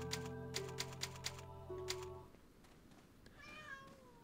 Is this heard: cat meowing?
yes